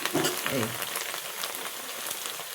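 Nalla fry (Telangana-style meat fry with ginger and garlic) stirred in a pan, a steady close sizzle with soft scraping under it, continuous and fairly loud, with faint voice traces in the background.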